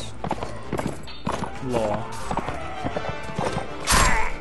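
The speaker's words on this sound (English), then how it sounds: "I ran him over with a horse." A horse in Mount and Blade With Fire and Sword galloping and trampling over someone, with a rapid clip-clop of hooves, a whinny and a loud crash near the end, while someone speaks over parts of it.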